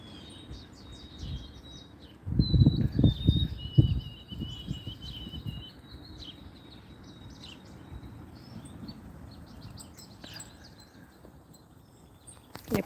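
White-throated sparrows on a cool morning, with scattered high chirps and short calls over a steady insect-like hiss, plus a burst of low rustling near the start.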